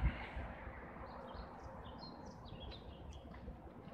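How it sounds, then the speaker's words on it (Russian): Birds sing in the Ural mountains, with faint, scattered high chirps and trills drifting over a soft outdoor hum, distant and quiet, with no one speaking. "Пение птиц."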